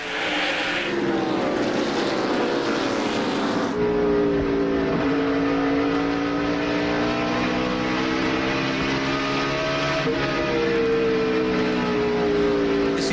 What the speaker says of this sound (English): listen how he gets off the throttle and just lets the car coast through